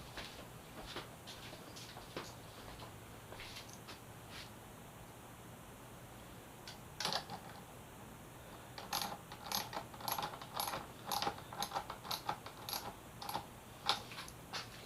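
Faint ratcheting clicks come from tightening parts of a motorcycle wiring harness on a Yamaha FZ6R being converted to R6 parts, a few scattered clicks and then a quick run of repeated clicks, close and quiet.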